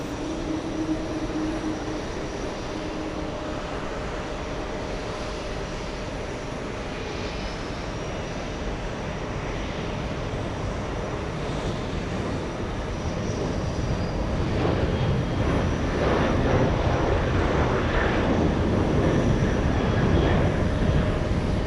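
A Qatar Airways Boeing 777 jet at JFK Airport gives off a sustained, broad roar. The roar grows slightly louder toward the end as the big airliner moves by at a distance, with no talking.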